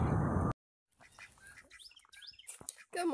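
Farm ducks quack and call in the morning among chickens and guinea fowl, with scattered bird calls fairly close by. A loud burst of noise cuts off abruptly at the start and returns at the end.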